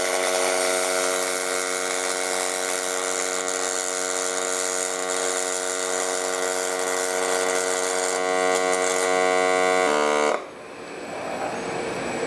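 A robot welder with an external axis moves slowly through program playback, giving a sustained, loud, tonal motor whine of servo drives that shifts in pitch near the end and then cuts off, leaving faint background noise.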